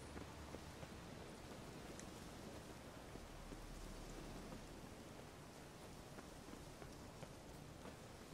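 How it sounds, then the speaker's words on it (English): Steady rain falls in The Witcher 3, an even, dense hiss of drops with faint scattered patters and a low rumble underneath, continuous for several seconds with no talking. "Looks like rain."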